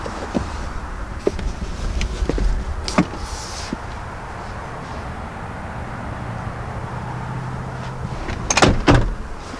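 A second-row seat in a 2020 Kia Telluride slides out of the way at the press of a button, a motorized hum under scattered clicks and knocks, ending in a louder clunk near the close.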